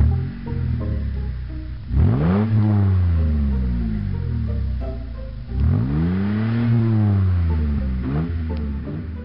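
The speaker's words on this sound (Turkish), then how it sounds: "Hadi bir marşa bas bakayım." Car engine in a Minecraft game starting and revving, two rising-and-falling rev sweeps with loud whining harmonics, close and alone.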